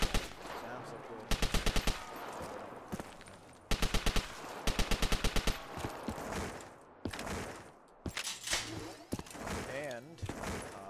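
M40 rifle gunfire in Call of Duty Black Ops III: bursts of rapid, evenly spaced shots in several volleys, loud and close, mixed with game effects and clatter, with a voice talking between the bursts.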